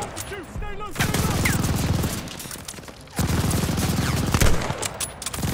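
Rapid, sustained machine gun fire in the World War II shooter Call of Duty: Vanguard, two long loud bursts split by a short pause, with brief game voices at the start.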